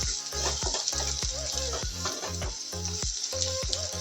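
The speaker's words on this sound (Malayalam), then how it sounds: "ഉള്ളി ഏകദേശം മൂത്ത് വരുന്നുണ്ട്" Onions fry in a pan for poha over a medium flame, a steady close sizzle with regular scraping stirs and spoon taps against the pan.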